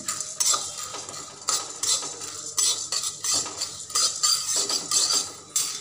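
Chana dal dry-roasting in a bare pan with no oil, stirred repeatedly with a spatula, giving close rattling scrapes and clinks in an irregular rhythm, no voices.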